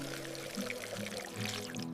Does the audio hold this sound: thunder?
no